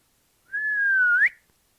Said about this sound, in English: so let's try out a whistle